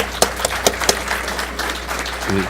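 Applause at an engineering conference on water use in metallurgy, thinning into a few scattered claps from the audience in a hall, with a steady low hum beneath.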